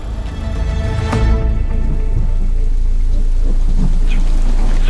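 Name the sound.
rain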